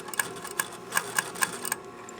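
A sewing machine stitches close to a fabric edge along a sleeve placket seam in short, quiet bursts of rapid clicking with pauses between, fairly faint.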